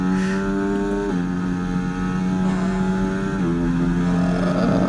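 A Formula 1 car engine in the F1 2024 racing game holds a loud, steady high-pitched drone, with two brief dips in pitch where the gear shifts change the engine note.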